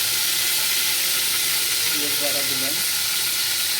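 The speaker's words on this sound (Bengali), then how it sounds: "হালকা করে আমরা তেল দিয়ে নিলাম, হালকা করে আমরা পেঁয়াজ দিলাম, তেজপাতা দিলাম" Onions and bay leaves fry in oil with a loud, even, continuous sizzling hiss, while a voice speaks briefly midway over the frying.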